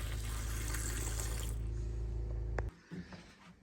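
An RV faucet runs steadily with a loud, close rush of water while pink antifreeze is primed through the lines for winterization, then shuts off abruptly, leaving a few faint handling sounds.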